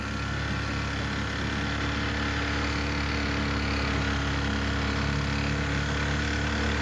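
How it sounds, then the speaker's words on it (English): Outboard engine on a boat in an alligator refuge, a loud, steady droning hum with a constant low rumble that continues without a break and with no voices. "Let's cut off the engine for a minute and get some peace."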